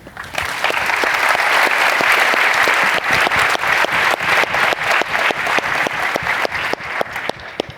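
Audience applause following a keynote at the MFA EX 2024 accessibility-in-media event, a dense, loud wash of clapping from a large crowd that holds steady, then thins into scattered individual claps near the end.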